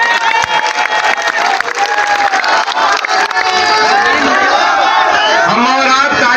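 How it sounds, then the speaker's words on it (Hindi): A large crowd at a political rally for the Khatauli by-election in India cheers loudly and continuously, with shouting voices and some clapping mixed in close and dense throughout. "हम और आप ताली बजा रहे हैं,"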